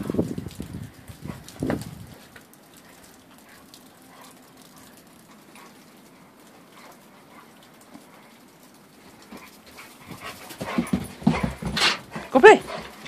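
A Rottweiler playing and hopping in snow gives faint panting and soft whimpering noises, mostly quiet with bursts of nearby activity at the start and end, and a person talks now and then.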